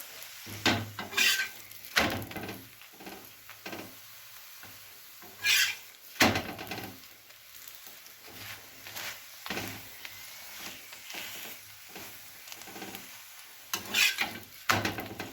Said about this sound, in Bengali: এবার আমি একে একে সব পরোটাগুলো ভেজে নেব।